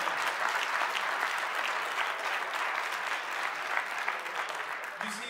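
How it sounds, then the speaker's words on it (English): An audience applauds at a speaking event, a dense, steady wash of clapping that holds strong for several seconds before starting to thin out at the end. "Let's give her a round of applause."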